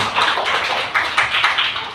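Audience applause for a teacher at a school event, a steady spread of many hands clapping close by for about two seconds, with no voices over it.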